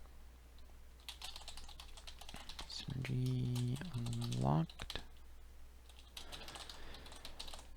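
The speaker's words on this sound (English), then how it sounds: "Lots of typing" Dense, fast typing on a computer keyboard during a Python coding session, steady clicking throughout, with a brief synthesized game sound effect and a short spoken phrase midway.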